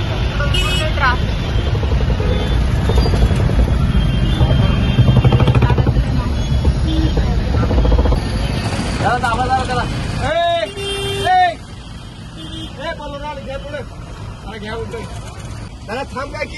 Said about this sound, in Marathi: पूर्ण ट्रॅफिक.